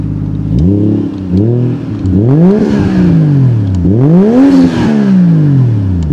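A Toyota JZX110 Mark II iR-V engine revs hard twice, pitch climbing and falling with each press of the throttle over a steady idle, close and loud.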